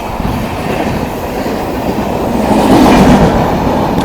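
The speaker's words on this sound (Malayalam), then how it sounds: "കേരള എക്സ്പ്രസ് പൊയ്ക്കൊണ്ടിരിക്കുക കേട്ടോ" The Thiruvananthapuram–New Delhi Kerala Superfast Express rumbles past nearby, a steady loud roar of wheels and carriages that swells toward the end, with no voices.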